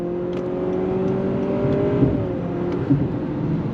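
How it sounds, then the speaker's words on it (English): A 2025 Honda CR-V Sport L hybrid accelerating in sport mode, a steady in-cabin engine drone with rising tonal hum and slight pitch shifts from simulated gear changes. "I'm gonna go ahead and put it into sport mode, and then we're gonna go on throttle."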